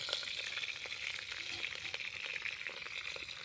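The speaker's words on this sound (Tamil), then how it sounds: "வத்த குழம்பு நல்லா பொரிஞ்சு வந்துச்சு இது கூட ஒரு பத்து கருவேப்பிலை சேர்த்துக்கலாம்" Curry leaves and seasoning spluttering in hot oil for vatha kulambu, a steady, soft, dense crackle and hiss that runs without a break, faint and close, with no voices.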